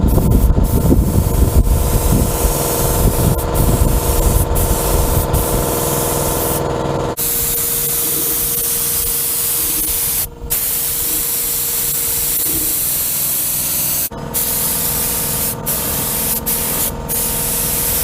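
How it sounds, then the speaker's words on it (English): Paint thinned with thinner hisses steadily from a spray gun for many seconds at close range, with a few brief breaks between passes, while coating the frame of a 1959 Studebaker Lark Custom. "then I'm going to do 100 parts of this paint thinner, and then I'm going to go ahead and spray it on"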